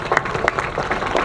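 Audience applause at a Guru Purnima festival at an ashram, a short burst of crowd clapping with distinct individual claps standing out, close and fairly loud.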